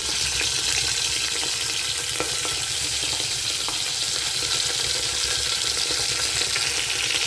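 Shallots, green chillies and curry leaves sizzle steadily in hot groundnut oil, a dense continuous frying hiss with faint clinks of stirring throughout.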